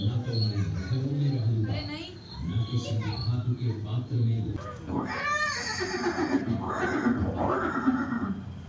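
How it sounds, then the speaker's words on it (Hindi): A horse neighs in a museum display depicting Chetak, the famed warhorse of Maharana Pratap, with repeated loud whinnies rising over background music and ambient sound in the second half. "ये दृश्य महाराणा प्रताप और सुविख्यात स्वामी भक्त घोड़े चेतक के अंतिम मिलन का है।"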